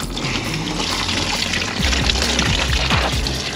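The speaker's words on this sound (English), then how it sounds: "Drain all the coolant out, give it a quick flush." Coolant pours and drains from a disconnected radiator hose on an MGB, a steady loud rushing gush of liquid that runs continuously without pause.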